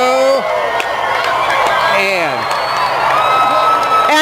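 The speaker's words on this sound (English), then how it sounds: "And the crowd goes wild" A crowd watching a total solar eclipse cheers and whoops loudly, with excited voices and rising shouts blending into a dense, continuous roar close by.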